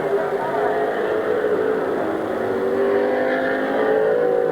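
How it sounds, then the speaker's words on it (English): Race cars rev down the front stretch at Midvale Speedway during an August 1999 race, engines droning steadily and fairly loud across the whole stretch. "Oh, they're revving down the front stretch."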